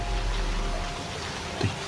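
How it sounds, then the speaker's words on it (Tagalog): Rain falls outdoors in a steady, dense hiss, with a faint low rumble early on and a soft thump near the end. "Parang umuulan na mga kaidol, no?"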